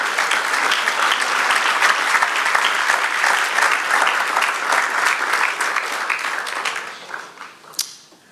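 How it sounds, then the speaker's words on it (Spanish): Sustained congregational applause during a church service, a dense, steady wash of many hands that holds for several seconds, then thins and fades near the end with a few last claps. "dale un aplauso al Señor."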